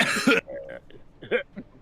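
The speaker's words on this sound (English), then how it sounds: "Smoker's real cough." A single harsh cough bursts out up close, followed by a few faint murmured vocal sounds and a softer throaty noise, heard alone with no music behind it.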